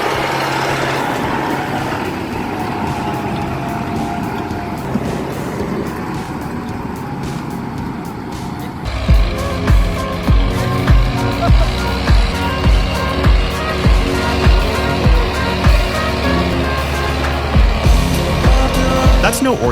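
Belarus MTZ-920 turbo tractor working through deep swamp mud, its diesel engine droning steadily, then surging into loud, rhythmic revving pulses repeated again and again as it pushes through the mire, with a voice talking over it.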